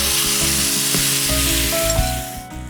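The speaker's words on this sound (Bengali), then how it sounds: "সো আমি এখন দিয়ে দিচ্ছি চিকেনটা।" Chicken sizzles and fries steadily in a nonstick pan during summer barbecue cooking, a loud continuous hiss with faint scraping and no voices.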